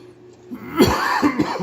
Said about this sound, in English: my turn to cough